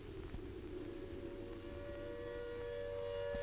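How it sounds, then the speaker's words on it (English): Air raid siren wailing over a city in postwar Germany in 1946 archival sound, a sustained, slowly rising tone over a broad hiss of old recording noise, steady and fairly distant. "Then the air raid siren wails again"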